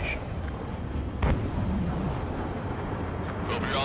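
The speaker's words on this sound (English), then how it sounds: "That's a confirmed direct hit by the missile" Missile explosions from the combat flight game Ace Combat 7: Skies Unknown, with one sharp blast near the start standing out above a constant roar of jet engines and battle rumble.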